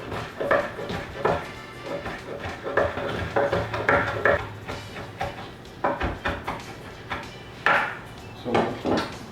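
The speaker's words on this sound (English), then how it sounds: "you just want to cut them into really small pieces." A knife cuts sausage into small pieces on a board, giving irregular close knocks and taps, a few seconds apart or in quick pairs, over a quiet kitchen background.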